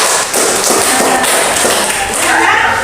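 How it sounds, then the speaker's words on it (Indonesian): A class of students claps hands together, a close, loud, dense clatter of overlapping claps that fills the whole stretch with little variation, some voices faintly mixed in. "Oke, tepuk tangan untuk kalian."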